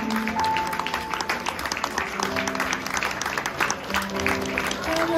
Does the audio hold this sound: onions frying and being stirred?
no